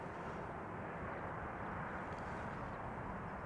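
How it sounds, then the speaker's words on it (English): A KLM Boeing Dreamliner jet arriving from San Francisco at Amsterdam Schiphol Airport gives a steady, broad engine rumble, heard at a distance and holding even throughout with no voices. "Top left is the Dreamliner arriving from San Francisco from KLM"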